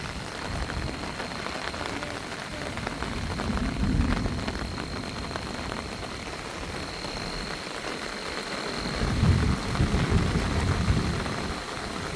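Steady rain falls at a rural Thai home, a dense continuous patter with a couple of heavier swells, and a low distant rumble that may be thunder.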